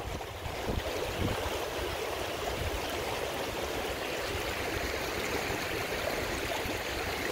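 Water rushes steadily across a river crossing, a dense continuous wash of flowing water heard close and loud with no pauses.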